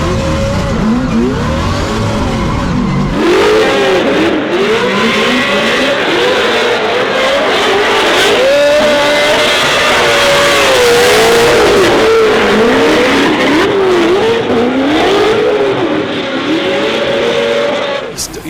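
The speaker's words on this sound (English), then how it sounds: "So firing of the exhaust across the finish line." A Formula Drift car sliding across the finish line, its engine screaming and revving with wavering pitch while the exhaust fires, loud and continuous under crowd noise and announcer talk.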